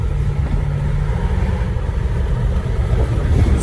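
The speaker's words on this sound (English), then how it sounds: "I don't know what exhaust she has, but I don't think that's stock." A Dodge Durango SRT with an aftermarket exhaust, its engine giving a deep low rumbling idle, loud and nearby and steady throughout, without any voices.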